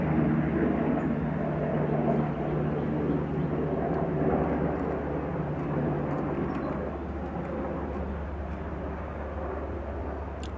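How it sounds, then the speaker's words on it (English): Loud, steady engine drone of a helicopter passing overhead, broadband and rumbling, slowly fading toward the end. "Helicopter flying by."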